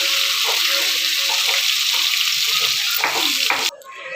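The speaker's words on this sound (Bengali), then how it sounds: "এবার এটাকে লাল লাল করে ভাজি নেব তেলের মধ্যে" Bitter gourd pieces frying in fish oil in a home kitchen, a loud continuous sizzle with a few stirring knocks, cutting off sharply near the end.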